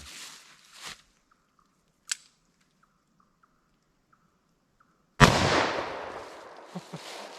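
A warm-loaded Buffalo Bore 10mm Auto hollow point strikes a pumpkin outdoors. After a few faint scattered knocks, one loud, sharp blast cuts in and decays into a rushing, splattering tail.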